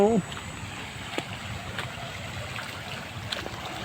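Strong rushing river water beside a new access road and bridge near Barangay Barra, Lucena City, Quezon Province: a steady, broad roar that runs without pause through the whole clip, with a brief voice at the very start.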